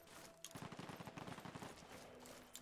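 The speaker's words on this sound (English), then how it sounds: "we got gunfire going on somewhere" Rapid bursts of gunfire in heavily modded Fallout 4 rattle in quick succession, sounding somewhat distant against a noisy background.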